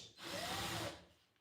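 A power drill whirs for under a second, its motor pitch sweeping briefly, then winds down into quiet.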